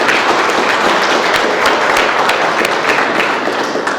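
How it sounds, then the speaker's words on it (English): Sustained applause from a conference audience honoring event speakers and sponsors, dense steady clapping at close range throughout, with no speech. "if we could give them all a round of applause"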